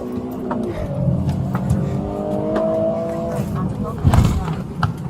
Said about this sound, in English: Stop the car!